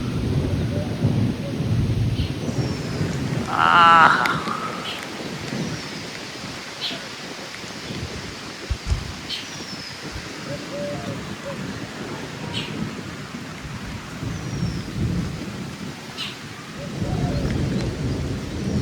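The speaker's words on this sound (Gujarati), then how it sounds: "વડનગરમાં તો જબરજસ્ત વરસાદ પડ્યો." Heavy rain pours steadily in Vadnagar, a town in Gujarat, with rumbling thunder rolling in and out and a sharp nearby crack midway, and a bird call briefly heard early on.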